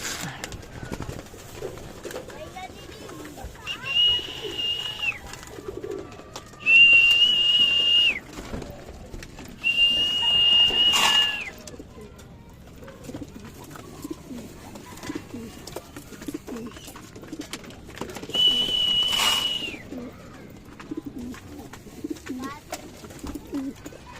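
Breeding pigeons in a loft cooing at close range, with several distinct whistling coo phrases rising over a quiet background with faint rustling and occasional soft voices.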